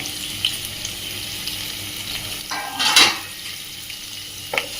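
Chopped medium onions sizzle in a pan for mushroom curry, a steady close frying hiss with a brief clink of utensils and a stirring scrape near the middle and end.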